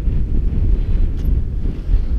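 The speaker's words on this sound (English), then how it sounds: "The wind's coming straight in." Strong wind buffets the microphone at a paragliding launch site, a continuous loud low roar with gusty rises and dips and no voices.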